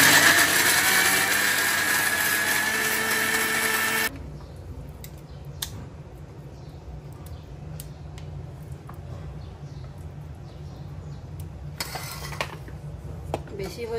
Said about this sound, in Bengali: এটা আমি ব্লেন্ড করব, আপনাদেরকে দেখাচ্ছি।